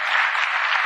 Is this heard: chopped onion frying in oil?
no